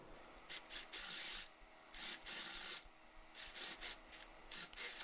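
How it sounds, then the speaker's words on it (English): A high-pitched rasping whir comes in repeated short bursts with pauses between, close by and fairly quiet, as a small drill deepens holes in a Squier Sonic Stratocaster guitar body. "decided to give them all a good drilling"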